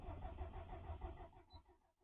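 A Subaru STI engine cranks with a rhythmic, pulsing churn that slows and fades out without starting, close and fairly quiet.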